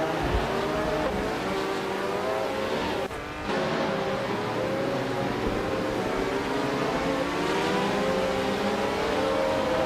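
A 1976 Penske PC3 Formula One car screams around the tight corners and short straights of the Baskerville circuit in a racing video game, its engine note rising and falling continuously with a brief dip near the middle, loud and close.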